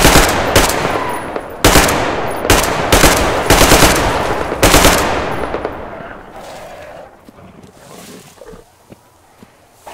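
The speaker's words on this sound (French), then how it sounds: "c'est quoi ce fusil de mort" A powerful gun fires in the video game Metro Exodus: loud, close bursts of rapid gunfire in several volleys, then a long fading echo and quieter ambience.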